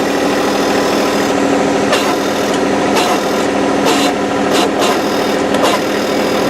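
A loud, steady tractor engine drone runs throughout, with a strained, rough edge and brief rasping bursts as it works under load lifting a goat house.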